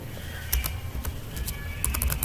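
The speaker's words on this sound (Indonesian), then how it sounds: "kita mengetik" Keys on a computer keyboard click in irregular taps and quick bursts over a steady background hum, close and fairly crisp, with no talking.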